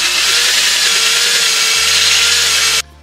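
A power drill bores into a shower wall panel inside a camper van, giving a loud, steady, grinding whine for nearly three seconds before cutting off abruptly.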